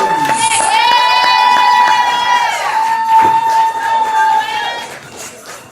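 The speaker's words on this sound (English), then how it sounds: "start clapping, start clapping, start clapping. Make some noise." Audience at a birthday poetry slam cheering, whooping and shouting together, a loud sustained wall of crowd noise with high voices and scattered claps that swells and then tapers off toward the end.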